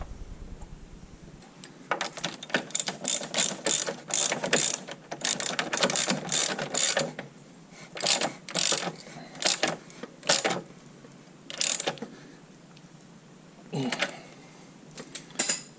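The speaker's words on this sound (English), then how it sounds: "I'll use the socket on this side." Ratchet socket wrench clicking while turning a bolt on the front A-arm of a Polaris Sportsman 500 ATV during bushing replacement, in close bursts of rapid clicks separated by short pauses.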